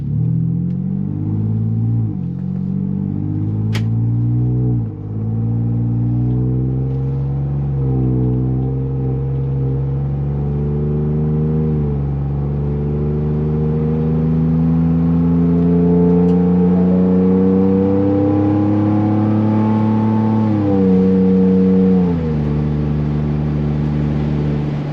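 A 2021 Ford Bronco with the 2.7 engine and a Flowmaster FlowFX exhaust driving along, a deep steady exhaust rumble rising and dropping through repeated gear shifts, heard close and alone.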